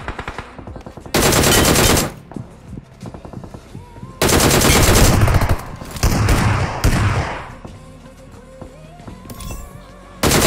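Loud automatic gunfire from the battle royale game BGMI arrives in several separate bursts, some long and some short, with quieter stretches of game ambience between them.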